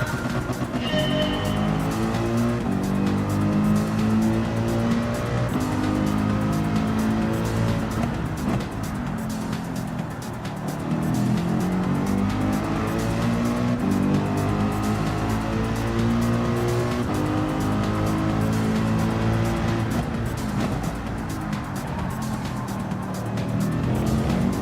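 A race car laps the Mount Panorama circuit in a racing video game, its engine droning loud and continuous with shifting pitch and occasional tire noise throughout.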